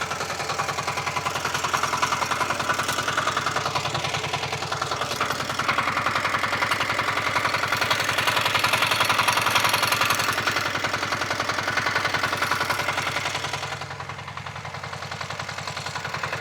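A Forte 1035-3 walk-behind tractor's small engine chugs steadily and close by as the machine drives along, a constant rattling throb that dips slightly near the end.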